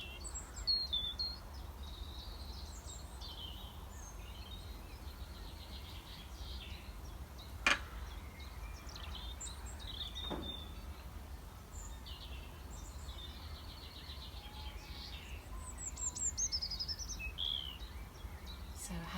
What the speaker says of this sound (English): As we're listening to the birdsong, now try and see how many different types of birdsong that you can hear.